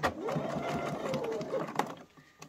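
A sewing machine stitches a fabric hair scrunchie, first running in reverse to lock the seam and then forward. A close, steady motor whir breaks off briefly partway through, with light handling sounds at the end.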